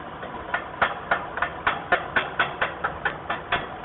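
A chipping hammer strikes slag off a fresh weld in a quick, even series of about fourteen sharp metallic taps, close and clear with a faint background hum between blows.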